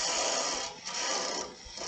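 Burn mark being scraped off a piece of turned wood, a continuous dry rasping scrape with slight dips in intensity, close and moderately loud, no talking.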